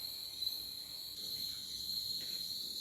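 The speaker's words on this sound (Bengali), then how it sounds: "ঝিঝির ডাক" Crickets chirp in a forest at night near Gorumara, a faint, continuous high-pitched trilling that holds steady throughout with no talking.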